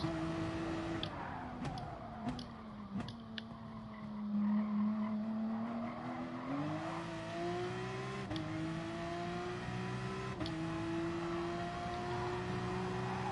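Race cars lapping in the video game Gran Turismo Sport, a close engine note rising and falling through gear changes and revs, with brief tire squeals and a steady motor drone throughout.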